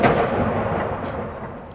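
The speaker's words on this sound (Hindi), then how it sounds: "ब्रिटिश सेना की रॉयल आर्टिलरी ने तोपों की सलामी दी।" Royal Artillery of the British Army firing a ceremonial gun salute in Scotland for King Charles III, heard as a continuous loud rumbling boom that rolls and slowly fades, with no voices.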